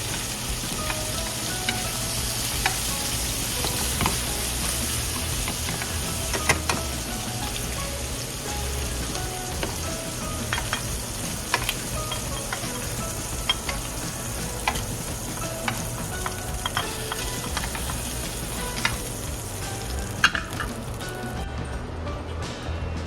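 Shrimp frying in a pan, a continuous close sizzle and crackle of hot oil at an even loudness, with small pops and occasional light clicks of kitchen tongs.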